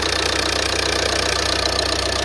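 A Ford Mondeo Mk4 1.8 TDCi diesel engine idles under an open bonnet, a loud, close, steady rough rumble with the rhythmic diesel clatter and knock running throughout.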